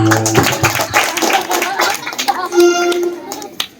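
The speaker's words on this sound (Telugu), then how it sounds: "అందరూ చప్పట్లు కొట్టండి రా" A group claps hands in a comedy skit, uneven bursts of loud, close slaps with a voice and other talk mixed in between the claps.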